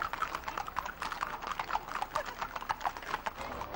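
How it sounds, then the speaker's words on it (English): Horses walking up a road at the Crab Fair, hooves clip-clopping in a steady, uneven patter, quiet and somewhat distant against faint outdoor background. "that's a lock of horses walking up straight"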